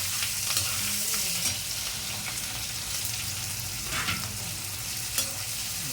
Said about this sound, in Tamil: மிளகாய், இஞ்சி, பச்சை மிளகாய், கருவேப்பிலை எல்லாம் நறுக்கி வச்சதை போட்டு நல்லா வதக்கிக்கணும்.